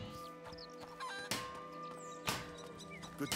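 A chicken clucks in A Plague Tale: Innocence, a series of short close clucks with two sharper squawking bursts about a second apart over a quiet ambient bed.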